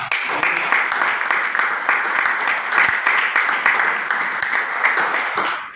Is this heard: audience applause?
yes